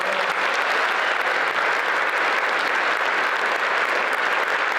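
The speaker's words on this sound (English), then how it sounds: "And that deserves a round of applause." A crowd at a Central College event applauds steadily, a dense, even wash of many hands clapping, loud and sustained throughout, with no talk over it.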